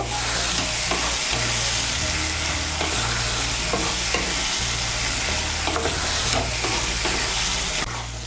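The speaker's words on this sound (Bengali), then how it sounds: "মিশিয়ে নিয়ে মশলাটাকে আরেকটু ভালো করে কষিয়ে নেব।" Spiced masala and sour yogurt sizzle hard in a pan for a Bengali cauliflower curry, a steady loud fry with scraping stir strokes throughout and a low hum underneath.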